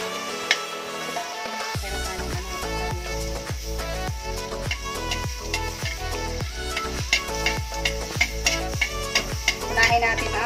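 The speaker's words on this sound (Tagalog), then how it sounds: "igisa na natin ang ating giniling at yung mga sangkap" Ground pork and other ingredients sauté in a pan for pork empanada filling, a continuous sizzle punctuated by regular scraping and clacking strokes of a spatula, close and clear with no talking.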